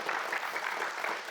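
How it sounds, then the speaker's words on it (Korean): An audience gives a brief, even round of applause at a formal public event, the clapping steady and moderately distant with no talk over it. "여러분 힘찬 격려와 응원의 박수 좀 부탁드리겠습니다"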